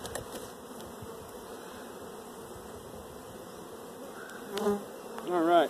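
Honey bees buzz steadily at an open hive while frames are pulled for a cell builder, a dense continuous drone close by, with a few louder bursts and tonal whines near the end.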